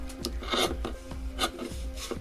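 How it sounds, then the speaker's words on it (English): Dull scissors snip through fabric for a doll sock pattern, giving a series of short rasping cuts in an uneven rhythm, close and moderately loud, with no talking. "I think this would have been a lot easier if my scissors were sharp and smaller."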